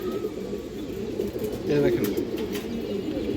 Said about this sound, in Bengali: এক পেয়ার কালদম কবুতর আছে মাশাআল্লাহ